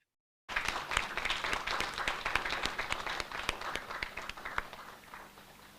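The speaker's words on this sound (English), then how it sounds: "A round of applause for Nayan Joseph." Audience applause at a secondary school competition prize-giving ceremony bursts in abruptly after silence, dense, steady clapping that gradually thins toward the end.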